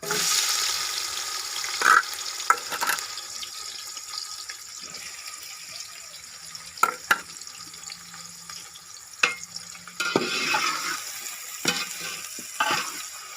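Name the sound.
onions frying in a pot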